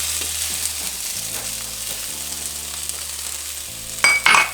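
Onions already softened in a pan fry with chipotle and garlic just added, a low steady sizzle with faint stirring, then louder scraping bursts near the end; no one speaks.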